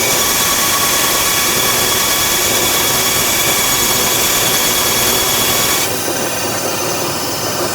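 A loud, steady whine of a power tool cutting runs continuously, then its pitch drops slightly near the end.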